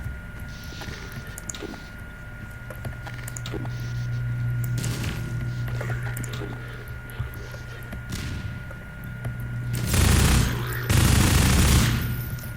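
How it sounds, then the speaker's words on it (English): Gunfire in Half-Life 2 combat, including shotgun blasts: scattered sharp shots at a distance over a low engine-like hum, building to two loud, close bursts of firing near the end. "I've run out of ammo for the good guns, so I'm stuck just shotgunning everything"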